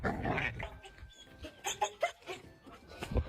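A Belgian Malinois gives faint, scattered whimpers and short yelps over a noisy room background, with no clear speech.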